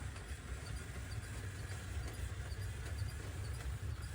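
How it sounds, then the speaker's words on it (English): LEGO train locomotive running around a layout pulling a string of cars, a steady low motor hum with faint rhythmic clicking of wheels over track joints, continuous and fairly quiet. "the locomotive is pulling everything fairly well."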